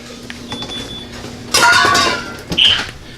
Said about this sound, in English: Knock your brake clean bottle over.